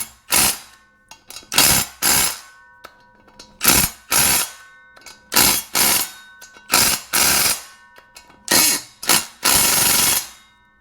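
Repeated ratcheting of a torque wrench during an LS engine swap, close and loud, in short bursts of rapid clicks separated by brief pauses, about a dozen strokes in a steady working rhythm.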